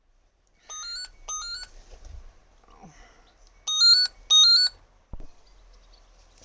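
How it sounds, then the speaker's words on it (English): A telephone rings in short paired electronic trills, two bursts early and two louder bursts later, with a click and a quiet background between them. "And now the phone's ringing."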